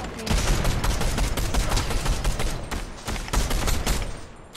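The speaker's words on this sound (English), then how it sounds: "there's somebody shooting at him." Rapid bursts of gunfire in a Fortnite match rattle almost continuously, loud and dense, with brief gaps between volleys.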